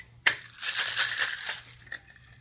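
A cocktail shaker tin is shaken hard during a fast bar drink-making round, giving a sudden crunchy rattle of ice that continues for about two seconds, close and loud.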